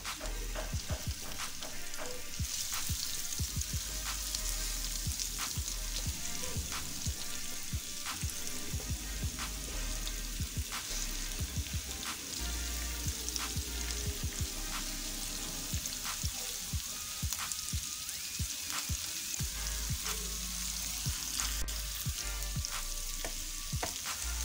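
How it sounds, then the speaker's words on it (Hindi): Garlic and ginger paste frying in hot oil gives a steady crackling sizzle with frequent sharp pops and spatters, occasional stirring scrapes, close and continuous for the whole stretch with no talk. "ये ऑयल गर्म हो गया था, फिर हमने ये पेस्ट डाला है। अब इसको ऑयल में फ्राई कर लेंगे।"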